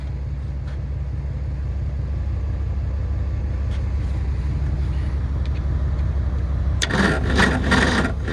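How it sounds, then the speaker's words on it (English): A 1970 Ford Maverick's starter cranks its engine in snowy weather, a steady labored churning that runs throughout, then the engine catches near the end with a louder, rougher burst. "that starter sounds very, very unhappy"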